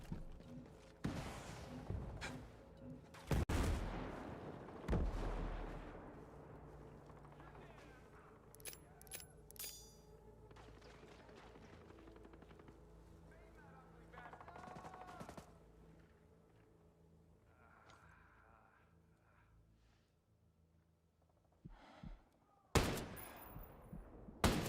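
Mortar blasts and gunfire ring out in Ghost Recon Breakpoint, with a few sharp bursts early on, scattered shots and impacts, and a heavy blast near the end, while a voice talks intermittently.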